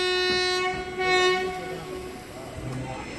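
The Meenakshi Express passenger train pulls away from a signal with a loud, sustained horn blast over the rumble of wheels and carriages, the horn fading after a couple of seconds into steady rolling noise.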